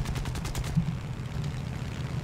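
A 7.7 mm aircraft machine gun firing in a War Thunder Pearl Harbor battle, a short rapid burst of shots at the start over a steady low engine drone that continues alone afterward.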